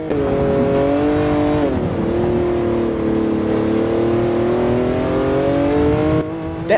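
A Ferrari engine in Gran Turismo 7 revs loud and steady, holding a strong harmonic tone that dips briefly and climbs again, with no talk over it.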